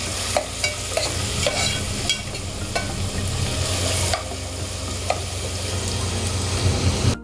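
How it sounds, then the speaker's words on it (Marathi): Chopped onion stirred and fried in hot oil in a pan, a steady close sizzle broken by scraping stir strokes every second or so. "कांदा आपण लालसर होईपर्यंत छान परतून घ्यायचा ना."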